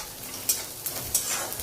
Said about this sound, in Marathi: लसूण चांगला परतवून घ्यायचा आहे